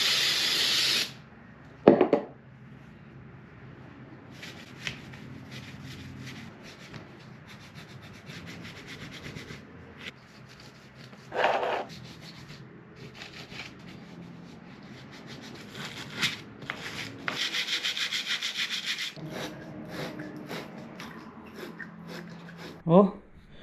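A wire brush scrubs corroded terminals on a 2009 Toyota Camry car battery, giving a steady near rasping and scraping with brief louder sprays of brake parts cleaner, while a person talks over much of it.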